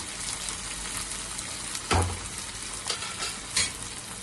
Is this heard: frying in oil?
yes